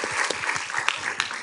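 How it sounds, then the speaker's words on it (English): A short burst of audience applause closes a talk at a green-solutions event, a crowd of hands clapping together at moderate, fairly even strength. "So everybody, please give another round of applause."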